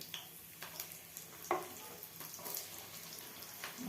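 Shahjeera and onions frying in hot oil for baby corn fried rice, a faint steady sizzle with occasional soft stirring scrapes, heard alone at low level.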